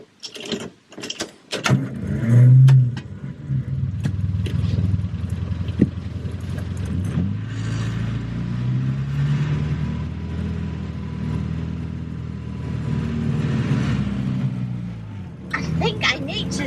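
Vintage car engine droning steadily while driving on a country road in Suffolk, with mechanical rattles and gear noise, heard from inside the cabin under people talking.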